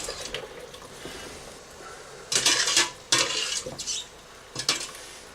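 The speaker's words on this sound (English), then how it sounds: "So I've got a sieve over a bowl, and I'm just going to drain that into that." Pork adobo cooking liquid drains through a sieve into a bowl, heard as close splashing and pouring in several bursts with metallic clatter from the sieve and bowl, and no talk.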